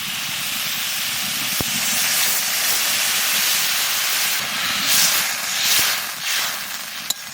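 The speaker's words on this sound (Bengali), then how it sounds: "আমরাটা ভাজা হয়ে গেছে এবার জল দিয়ে দেবো" Water poured onto fried hog plums in a hot pan for a sour chutney, giving a loud, steady steamy hiss that holds through the clip with a few brief clinks.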